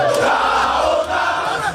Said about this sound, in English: A mammoth crowd of supporters thronged the residence of the Kwankwasiyya leader in Kano, chanting solidarity songs